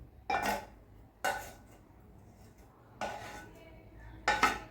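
Roasted mawa for Surat ghari sweets being scraped into a kadai, four separate metallic clanks and scrapes of a spoon against the pan with quiet gaps between them.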